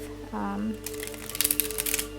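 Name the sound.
shuffling a tarot card deck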